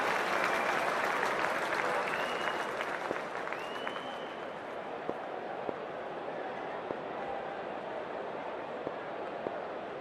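Cricket stadium crowd at the start of a Nepal versus USA match, a broad roar of cheering and clapping that starts loud and gradually settles into a steady hum with scattered claps.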